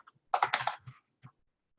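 Quick keystrokes on a computer keyboard, a short burst of about five close, crisp clicks followed by a couple of isolated taps, quiet and alone.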